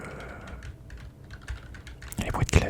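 Keyboard typing during a softly spoken French ASMR ramble, with faint scattered clicks at first and a louder, denser burst of keystrokes near the end.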